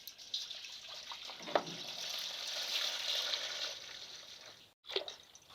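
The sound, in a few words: maple syrup swished around in a pre-boiler pan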